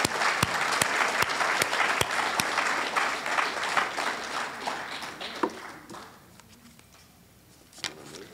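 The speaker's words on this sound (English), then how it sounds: "Let's give them a round of applause for putting it up." An audience applauds loudly for several seconds, then the clapping thins out and fades to a few scattered claps.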